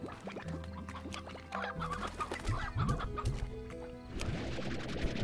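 Chickens cluck repeatedly in the Slime Rancher video game, a steady run of fowl calls over layered game music and ambient tones.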